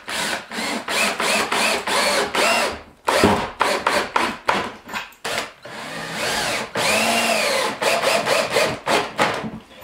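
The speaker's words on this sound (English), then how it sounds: "I know I'm screwing it at an angle. I want to make sure I get a good bite on my 2x6 frame to hold my hinges." A power drill drives screws at an angle into a 2x6 frame to attach door hinges on a barn board root cellar door, in repeated loud bursts of whirring with short pauses between them.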